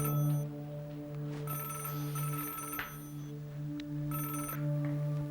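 An old-style telephone bell rings in several bursts over a steady low hum, moderately loud and close.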